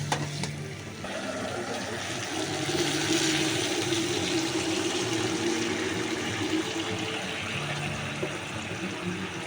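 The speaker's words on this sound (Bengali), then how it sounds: "এই যে কষিয়ে কষিয়ে যখন তেলটা ছেড়ে দেবে তখন এতে আমি দিয়ে দেব গরম জল।" Hot water poured into curry cooking in a pan, its spices fried until the oil separates, making a steady rushing, bubbling hiss that starts abruptly and keeps going at an even level for about nine seconds.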